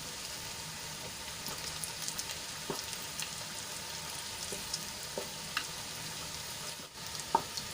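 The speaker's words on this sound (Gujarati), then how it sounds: "અહીંયા સાઈડમાં તેલ છે એમાં આપણે આને થોડીવાર માટે સાંતળી લઈશું" Peanuts, sesame seeds and gram flour sauté in a pan of oil for bitter gourd curry, giving a steady close sizzle with scattered small pops and stirring scrapes throughout, no voices.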